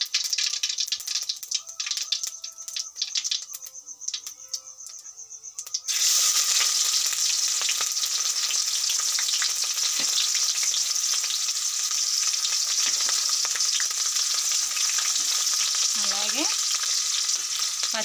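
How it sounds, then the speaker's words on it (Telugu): Chopped onion pieces drop into hot oil in a pan for bendakaya fry and start a loud, steady sizzle that continues alone, with light stirring scrapes. "इंदुलोकी कट चेसि पेट्टुकुन्न उल्लिपाय मुक्कलनु वेसुकुंदाम"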